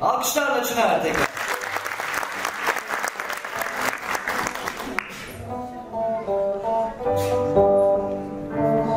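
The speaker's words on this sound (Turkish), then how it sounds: "Alkışlarla Çınar tekrar." A concert audience bursts into loud, dense applause for a young electric guitar student, which lasts about five seconds before fading out as clear sustained instrument notes take over.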